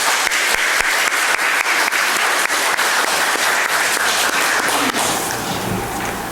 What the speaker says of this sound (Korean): 우리 찬양대 위에서 한번 같이 박수해 주십시오.